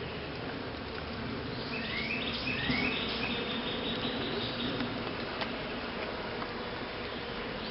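Honey bees buzz steadily around an open hive during an inspection, a dense continuous drone close to the microphone, with no talking.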